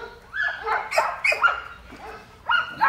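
An American Staffordshire Terrier puppy is introduced to a pack of dogs indoors, with several close barks and yips in short bursts, mixed with whimpering.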